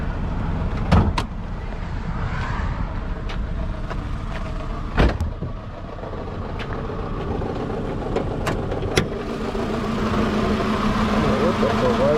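Nissan Altima, Pontiac G6 or Chevy Cavalier engine idling steadily nearby in a hot parking lot, a low continuous rumble broken by a few sharp clicks and knocks, with no voices over it.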